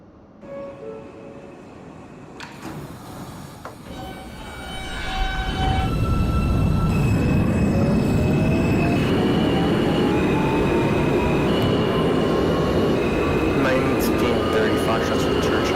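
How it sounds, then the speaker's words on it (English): An R160 subway train on the Brooklyn-bound R local, in the OpenBVE train simulator, starts from quiet, then its motors whine up in pitch under a heavy steady rumble. "This is a Brooklyn-bound R local train."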